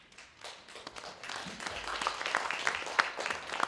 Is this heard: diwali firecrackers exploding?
no